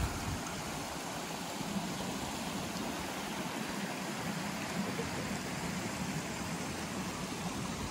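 A river flows beside a campsite, giving a steady, broadband rushing of water that stays even and unbroken throughout, with no voices.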